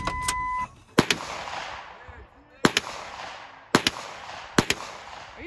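An SKS rifle and an APF 9mm pistol are fired at a truck outdoors: several loud, sharp cracks spaced out over a few seconds, each trailing a rumbling echo, with a short burst of noise at the start.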